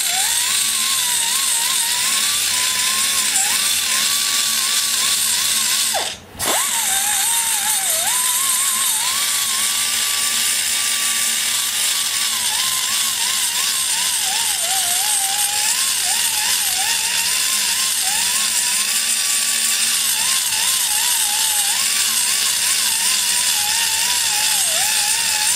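A high-pitched power tool whines continuously while blending the valve seat angles of a Ford Focus 2.0 cylinder head, its pitch wavering as it works, with one short cut-out early on.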